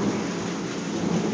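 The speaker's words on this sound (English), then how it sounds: "So we're getting about marble-size hail." Steady storm noise of rain and hail pelting down during a Kansas City thunderstorm, with marble-size hailstones; a continuous, fairly loud wash with no talking.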